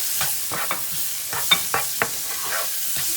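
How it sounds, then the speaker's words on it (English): Food for a paneer curry is stirred in a sizzling pan, with irregular scraping strokes of the spoon over a steady frying hiss. The sound is close and clear, with no voices. "Stir it up."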